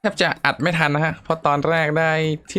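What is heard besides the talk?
No everyday noise stands out behind the speech.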